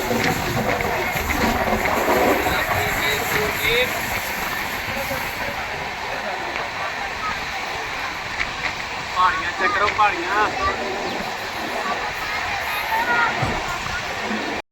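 A crowded passenger train near Jhansi gives off a continuous hissing rumble and rattle of rail carriages, with brief clanks, heard under talking voices throughout.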